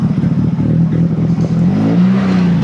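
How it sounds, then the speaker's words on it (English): Nissan Silvia engine at a large JDM car meet in the UK, revving loud and close with a steady droning rise and fall, no talk over it. "Let's hear how the Silvia sounds."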